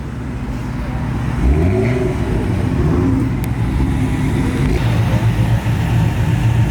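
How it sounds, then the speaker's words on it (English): A right-hand-drive Toyota Mark IV Supra rolls out of a car meet, its engine rumbling loudly and close with a rising rev partway through, then a steady drone as it pulls away. "the Supra's rolling out too."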